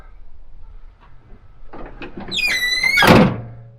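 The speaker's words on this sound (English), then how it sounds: "Close the tailgate up, and we're ready to hit the road" A car tailgate with a bike rack fitted being swung shut, with faint rustling, then a rising squeak of the hinge ending in a solid thunk near the end, close and without talk.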